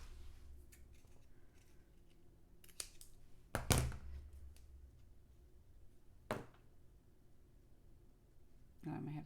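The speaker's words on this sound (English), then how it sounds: "I think I'll trim it there." Scissors trim paper for a handmade card in a few crisp, close snips spaced out over a quiet room.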